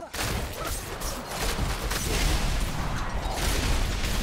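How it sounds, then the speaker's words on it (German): Dense, continuous rumbling blasts and booming gunfire-like bursts from explosions in the video game Diablo 4 fill the whole stretch, loud and chaotic with no clear gaps. "da hinten explodiert einfach alles nochmal."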